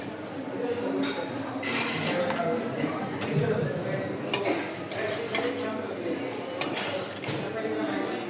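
Serving rolls and chicken at a Chinese restaurant buffet, with steady clinking and scraping of serving utensils against dishes and trays, close and continuous beneath a busy room murmur, while a person talks over it.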